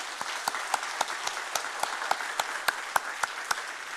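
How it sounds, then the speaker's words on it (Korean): A congregation at a Friday church worship service claps together in a steady, rhythmic beat of sharp, evenly spaced claps over a continuous wash of applause. "박수도 한 번 치기 너무 아까우니까 한 번만 더 쳐줘"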